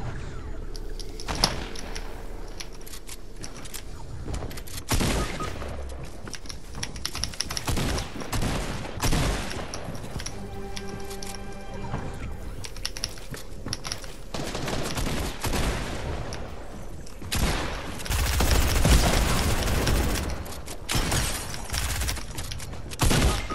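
Bursts of SMG fire in Fortnite, rapid close rattling volleys broken by brief pauses and mechanical clicks, with a loud heavy burst near the end.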